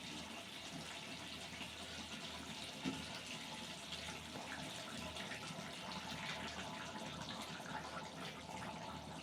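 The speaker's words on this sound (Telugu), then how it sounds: "కొంచెం వాటర్ పోసుకుందాం హాట్ వాటర్" A steady, soft rush of hot water being poured into chicken curry continues for several seconds, fairly quiet and even, with no voices.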